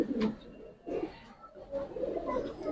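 Giribaz and coloured pigeons in a large home collection cooing, a few soft low coos near at hand, with someone speaking intermittently between them.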